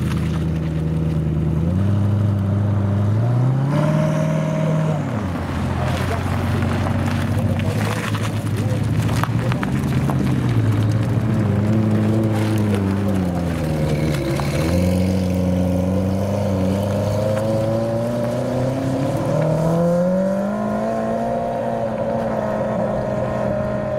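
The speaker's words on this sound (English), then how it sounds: "the Regera and the Chiron roll out between all of the other cars that are parked up" Bugatti Chiron and Bugatti Regera supercars pull out past rows of parked cars at a petrolhead event, their engines droning and rising in pitch through several revving surges, loud and close for the whole stretch.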